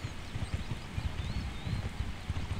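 A horse mount in the Mortal Online video game climbs a slope, its hooves giving a steady stream of soft, close clip-clops over a constant noisy background.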